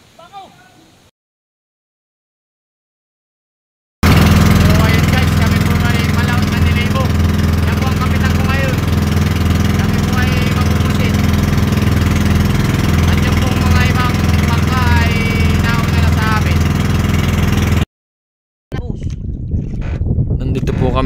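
A motorized outrigger boat engine drones loudly and steadily near Sitio Masanga, General Nakar, Quezon, with wind and water noise around it and short quieter gaps at the start and end.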